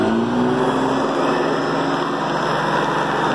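A Hoover High Performance Convertible upright vacuum cleaner runs steadily, its motor giving a loud, continuous whine and roar that stays even from start to finish with no talking.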